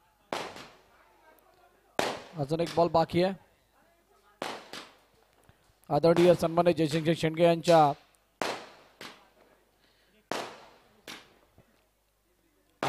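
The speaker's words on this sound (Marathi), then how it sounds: "फटाक्यांची आतिषबाजी." Firecrackers go off in sharp, separate bangs during a village cricket league match, popping at irregular intervals between stretches of a commentator speaking over the loudspeaker.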